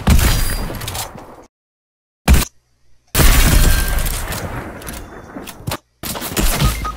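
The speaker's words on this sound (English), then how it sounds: "What direction is this guy shooting from?" Fortnite gunfire rattles in loud, dense bursts with sharp cracks and clangs, broken by sudden silent gaps as the game audio drops out.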